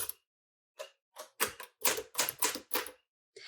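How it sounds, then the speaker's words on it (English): 1957 Smith Corona Silent Super manual typewriter keys striking in irregular bursts, a few isolated clacks then a quicker run of loud, sharp strikes, close and alone. "you can still clearly hear the typing"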